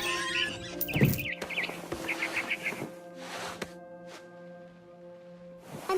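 Scattered warbling chirps from a barn swallow near its nest in the video game What Remains of Edith Finch, heard in short bursts early on over a sustained musical drone, with scattered clicks and rustles.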